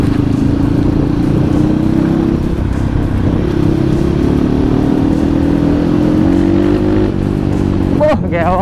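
A bored-up Kawasaki KLX motorcycle hums steadily at cruising speed, its engine note rising and falling slightly, loud and close with constant wind rush.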